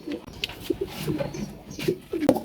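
Inside a bamboo pigeon house, pigeons give soft, scattered coos and low grunting calls at moderate distance over a faint background.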